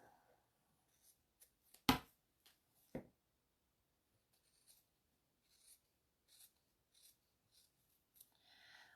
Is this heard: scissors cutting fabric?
yes